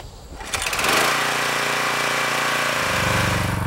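A pressure washer's small engine starts up and settles into a loud, steady running drone close by, used outdoors for clearing soil under a sidewalk.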